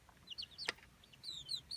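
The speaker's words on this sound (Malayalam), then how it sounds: "അപ്പോൾ ഇതിൽ 12 കരിങ്കോഴിക്കുട്ടികളാണ് നമ്മൾ ഇൻക്യുബേറ്ററിൽ യൂസ് ചെയ്യുന്നത്." Kadaknath and country chicks peep inside an incubator, several faint high chirps close together, with a single brief knock partway through.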